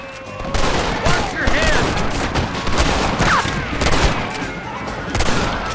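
Rifle fire in the Western game Red Dead Redemption, a dense run of loud shots and battle noise throughout with voices faintly mixed in.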